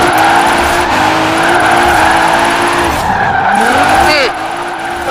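A car drifting in the racing video game Forza Horizon 4, its engine droning steadily beneath a loud, sustained tire screech that bends in pitch as the slide changes, then eases near the end.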